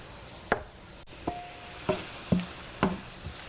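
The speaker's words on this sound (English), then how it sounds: "Just stir this up again." Pasta sauce with crushed red pepper stirred in a pan, a handful of distinct scraping strokes and clinks of a utensil against the pan, spaced irregularly, near and fairly quiet, over a faint background sizzle.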